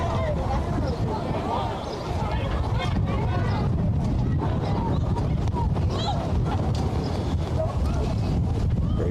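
Strong wind buffeting the microphone at a cold outdoor intra-squad soccer scrimmage, a constant low roaring rumble with a commentator talking over it.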